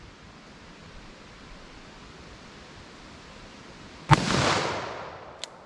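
A single .44 Magnum revolver shot, fired single action in a ballistic test, cracks sharply out of quiet background hiss, then trails off in a short, loud, decaying roar.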